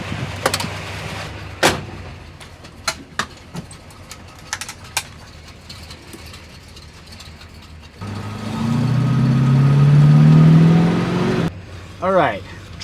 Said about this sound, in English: You can really hear that exhaust leak ticking out.